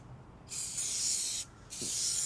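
A spray can sprays over a drawing in two steady hissing bursts, a long one and then a shorter one, separated by a brief pause. The hiss is close and fairly loud.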